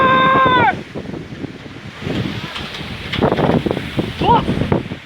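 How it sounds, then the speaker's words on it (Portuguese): Strong storm wind roars across the microphone in Guaratinguetá, a loud sustained rush that eases after the first second into gusty buffeting, with people talking over it. "Cara, que vento!"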